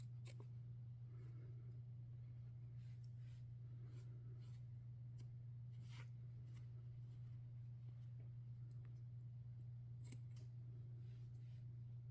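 Scissors snip finger-knitted yarn in a series of short, crisp, close cuts spaced irregularly over a steady low hum.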